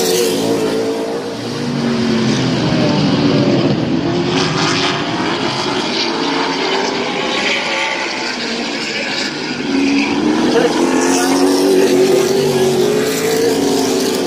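Late model race cars on the Midvale Speedway oval during a heat race, several engines roaring loudly together, the pitch rising and falling as the cars pass and accelerate through the turns.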